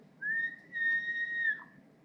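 A clear whistled tone, one long sustained note that steps slightly higher midway, then fades with a short downward slide.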